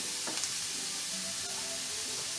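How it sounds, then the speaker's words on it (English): Celery sautéing in a pan for sausage stuffing gives a steady, close sizzle and hiss throughout, with a few faint stirring clicks and no talking. "A nice little sizzle, right?"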